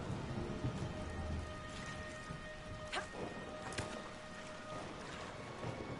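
Steady rain pours in a thunderstorm in the video game Dragon Age: Inquisition, a constant hiss with a few sharp crackles of lightning and thunder, no voices.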